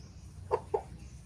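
A recovering chicken gives two short, soft clucks in quick succession over a low background hum.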